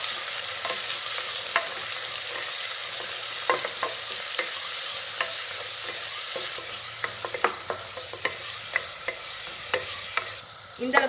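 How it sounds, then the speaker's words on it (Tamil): Onions sautéing with green chillies in a pan for Tamil-style ghee rice: a steady close sizzle runs throughout, broken by frequent sharp scrapes and taps of a spatula stirring against the pan, no voices. "இந்த அளவுக்கு வெங்காயம் வதங்கினா போதும்"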